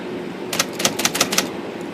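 An IBM Selectric typewriter's rotary backspace mechanism, just adjusted, gives five sharp, close mechanical clicks in an irregular run over a low steady background hum.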